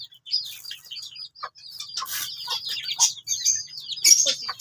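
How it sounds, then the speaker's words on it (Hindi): Little chicks peep in rapid, high, overlapping chirps close by, with a mother hen clucking softly among them. "ये देखो चूजे"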